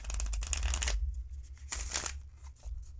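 A deck of tarot cards is riffled twice, each a quick flurry of crisp fluttering snaps, close and fairly quiet with soft handling noise between.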